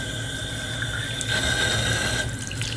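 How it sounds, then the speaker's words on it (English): Water running steadily from a python hose attachment into a balloon, a continuous close rushing and filling sound with a constant hum throughout and no talking. "that's gonna help me fill the water balloons up"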